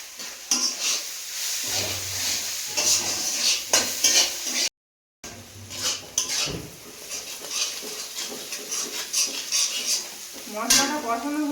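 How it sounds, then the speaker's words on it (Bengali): Spice masala with chili powder sautéing for a mutton curry, a steady close sizzle with repeated spoon scrapes and clinks against the pot; a brief gap of silence partway through, no talking. "মশলাটা কষানো হয়ে গেছে"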